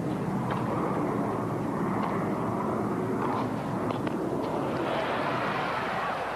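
Airplanes fly over a 1983 tennis match near the National Tennis Center, producing a steady, broad, rumbling drone that fills the whole stretch at moderate loudness, with no talk.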